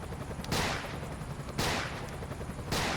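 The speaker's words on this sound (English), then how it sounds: "That poor guy is getting shot here all the time." Gunfire from the Emergency 5 video game: three loud bursts of shots roughly a second apart, each fading out over steady background noise, with no voices.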